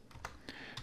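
Computer keyboard keys tapped while entering numbers, three or four quick, close, faint clicks in under a second.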